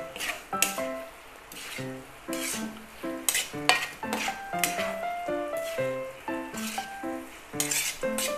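Pork, young corn and mushrooms stirred in a pan, a utensil scraping and clinking against the metal in a steady irregular rhythm over a low sizzle, close and moderately loud with no talking.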